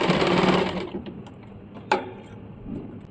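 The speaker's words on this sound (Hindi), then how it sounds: "ये बीच से लेके दोनों साइड सिलाई चला लेंगे" A sewing machine stitches a baby umbrella frock in one short loud burst of rapid ticking that stops abruptly, followed by quiet handling sounds and a sharp click.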